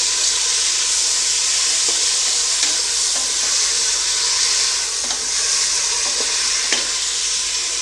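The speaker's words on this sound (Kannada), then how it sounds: "ಈಗ ಇದನ್ನು ಎಣ್ಣೆಯಲ್ಲಿ ಸ್ವಲ್ಪ ಚೆನ್ನಾಗಿ ಫ್ರೈ ಮಾಡ್ಕೊಳ್ತೀನಿ" Green pulao ingredients frying in oil give a steady, loud sizzle that fills the whole stretch, with a few faint spoon clicks from stirring.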